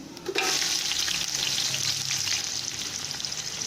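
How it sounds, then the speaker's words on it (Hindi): Onions, added after cumin, fry in hot oil with a loud, continuous, dense sizzle that starts abruptly and holds steady, with a faint stir near the start. "प्याज़ों को हम गोल्डन ब्राउन होने तक फ्राई करेंगे"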